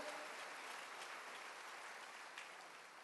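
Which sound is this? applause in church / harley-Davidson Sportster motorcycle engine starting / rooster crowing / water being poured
applause in church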